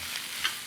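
Onions in a hot skillet for a sandwich filling get a quick stir, a brief hissing sizzle with a soft scrape, faint and close.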